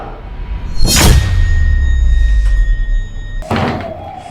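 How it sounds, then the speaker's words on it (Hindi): A door being shut in a domestic drama: a loud thud followed by a sustained low rumble, then a second, weaker knock near the end, with no talk. "मैं तुम्हारे मुंह के ऊपर दरवाजा बंद करूं"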